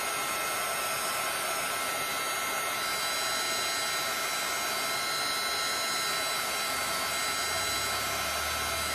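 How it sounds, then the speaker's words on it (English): A heat gun blows hot air over epoxy poured into silicone molds, a constant loud airy roar like a hair dryer that runs unbroken from start to finish. "Any type of heat gun will work."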